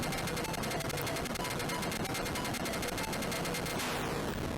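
Rapid-fire shooting at a massive bomber in the Atari 8-bit shoot-'em-up Screaming Wings, a loud, dense stream of chip-sound gunfire bursts repeating in quick rhythm, ending in a short descending electronic sweep.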